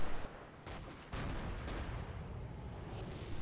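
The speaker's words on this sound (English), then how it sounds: "mortars firing on the 57s" Mortars firing in a war video game, dense booming blasts and rumbling gunfire layered into a loud, continuous battle din with a few sharper reports standing out, no voices over it.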